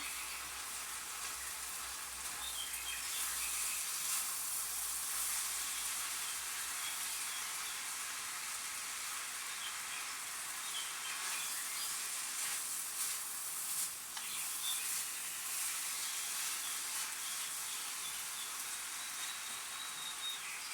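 A stir fry sizzles steadily in a pan at an outdoor garden cooking demonstration, a constant bright hiss that holds evenly without pause.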